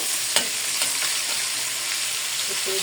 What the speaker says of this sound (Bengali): চিংড়ি মাছটাকে ভালো করে ফ্রাই করি।